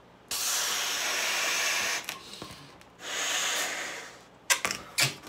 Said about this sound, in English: you should inflate all the way.